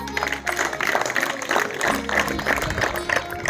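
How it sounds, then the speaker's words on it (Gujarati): Applause at a school NSS annual camp inauguration ceremony, a dense patter of many hands clapping continuously throughout, steady and moderately loud. "જોરદાર તાળીઓના ગણગણથી આપણે વધાવીશું આપણને"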